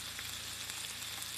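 Miso-marinated pork loin sizzles steadily on a hot plate, a dense, continuous crackle and hiss that stays close and even with no voices.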